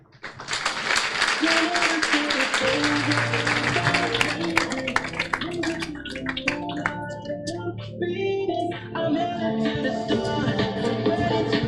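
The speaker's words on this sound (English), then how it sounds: "Please, with a big round of applause, please welcome our speakers to the stage." At a summit session, an audience applauds speakers coming to the stage: loud, sustained clapping throughout, with some cheering and scattered sharper claps standing out toward the end.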